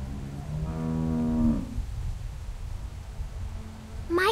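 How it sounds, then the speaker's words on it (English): Cow in The Walking Dead Telltale game giving one long, low moo that rises and falls, then quiet farm ambience and a brief sound at the end. "How do you like that cow, Clem?"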